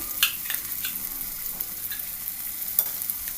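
Ginger garlic paste frying with golden-brown onions in a pan for an egg curry, a steady close sizzle with scattered crackles and occasional stirring clicks, no voices.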